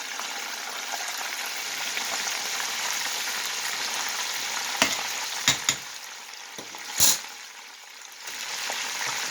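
Chicken pieces in a coating mix fry in hot oil around 300 degrees, a steady close sizzle and hiss with a few sharp pops and clatters partway through.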